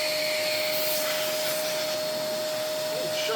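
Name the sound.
Hoover Portapower S1126 vacuum cleaner running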